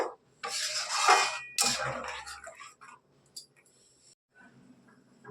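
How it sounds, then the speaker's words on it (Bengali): Spoon scraping and clattering in a pan as shrimp curry masala is stirred after water is added, with loud bursts of metallic rubbing separated by pauses, then quieter stirring. "জল দিয়ে একটু নাড়াচাড়া করে নেব।"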